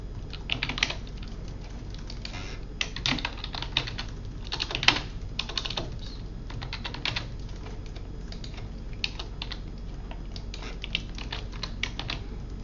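Someone enters a reviewer's details on a computer keyboard, with quiet, steady clicking keystrokes in uneven clusters and short pauses, nearby and with no voices.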